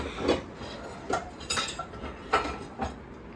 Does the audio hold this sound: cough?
no